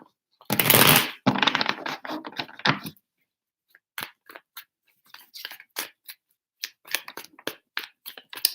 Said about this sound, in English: Three shuffles for Aquarius.